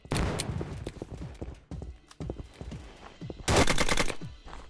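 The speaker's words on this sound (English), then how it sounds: "Is that a sniper? This sounds really bad." Rapid gunfire bursts from Battlefield 2042 sniper play in a team deathmatch, sharp cracks in short clusters with a dense loud volley near the end, close and dominant over faint background.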